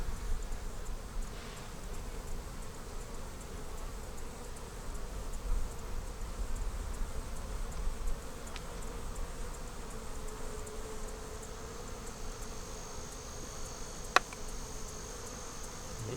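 Bees hum in a low, steady drone around a beehive in a pine tree, continuous and fairly faint, with a couple of brief clicks and no talk.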